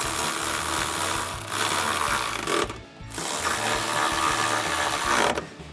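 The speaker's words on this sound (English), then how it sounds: "we'll grab our ratchet with our 13mm socket and tighten that down" A ratchet fitted with a 13mm socket tightens a bolt while installing step bars on a 2024-2025 Toyota Tacoma, giving close, loud, rapid clicking in two long bursts with a brief pause between.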